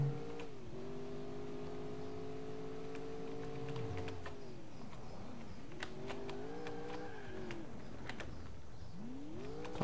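A racing car engine in Alarm für Cobra 11 Highway Nights at high speed, whining steadily and rising through the revs, dipping briefly at gear changes before climbing again, loud and continuous.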